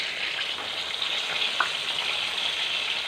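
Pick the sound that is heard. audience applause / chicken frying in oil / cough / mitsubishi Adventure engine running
chicken frying in oil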